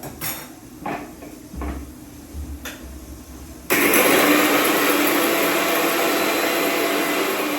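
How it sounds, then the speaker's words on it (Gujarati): A mixer grinder switches on partway through, grinding rolled rotis for a dry picnic snack with a loud, steady whirring roar after a few quiet knocks and handling sounds. "તો આપણે એને મિક્સરમાં પીસી લઈએ"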